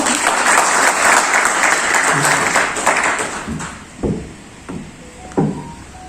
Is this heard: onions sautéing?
no